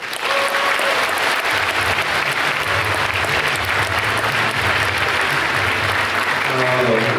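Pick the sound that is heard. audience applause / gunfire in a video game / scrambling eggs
audience applause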